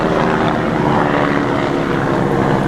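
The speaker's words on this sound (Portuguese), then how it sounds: "E aqui a gente consegue ouvir o som do helicóptero, né?" A helicopter passes overhead in a quiet place, its steady rotor and engine drone filling the whole clip at a constant, fairly loud level with no voices.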